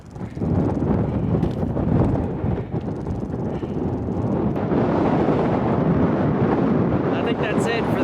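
Heavy gusting wind on a mountain trail buffets the microphone in a loud, rumbling rush that continues the whole time.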